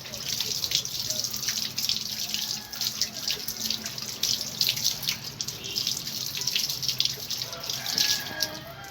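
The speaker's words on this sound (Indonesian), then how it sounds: "Oke, selanjutnya kita bilas." Running tap water splashes steadily as hands are rinsed at a sink during a handwashing demonstration, a continuous close hiss of flow with faint speech-like murmurs underneath.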